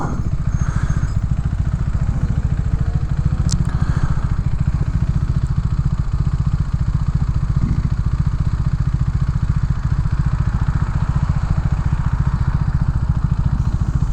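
Motorcycle engine cruising on a Chicago road along Lake Street, a loud, close, rapid low thrum with steady mechanical pulsing and wind rush, unbroken throughout.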